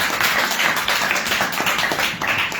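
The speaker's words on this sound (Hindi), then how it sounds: "एक बार फिर से जोरदार तालियां प्रभु की नाम" Congregation clapping in a church, a dense, continuous patter of many hands close by, steady and fairly loud, with no talking over it.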